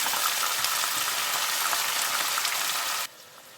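Greens, onions and green chillies frying in a pan make a bright, continuous sizzling hiss, close and steady, which drops away abruptly near the end.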